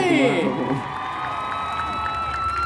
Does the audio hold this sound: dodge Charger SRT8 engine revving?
no